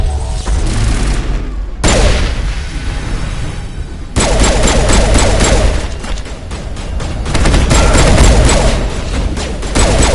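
Loud, sustained gunfire from Mass Effect 1 erupts in bursts and rapid volleys with heavy booms and crashes, the shooting dense and close, with almost no talk.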